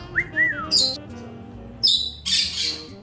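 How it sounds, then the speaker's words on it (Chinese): Monk parakeets squawk in a parrot cafe: a few sharp, loud, close calls come in quick separate bursts, each one short and shrill, with quieter room noise in the gaps. "和尚鹦鹉它是一种非常受到欢迎的宠物鸟类"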